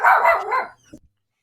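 A dog barks close by in a quick burst of a few loud barks, fading to a couple of softer yips before silence.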